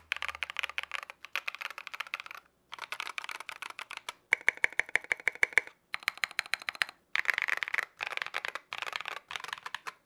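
Rapid clacking of a mechanical keyboard being typed on, coming in quick bursts separated by short pauses, close and crisp.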